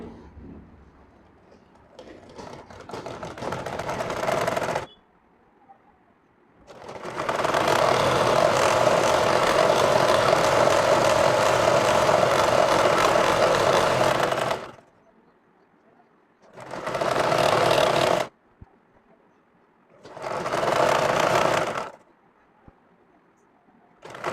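A sewing machine runs in long bursts while stitching the leg hem of a salwar from top to bottom, one sustained whirring run of about eight seconds followed by two shorter bursts, with quiet pauses and faint talk between them.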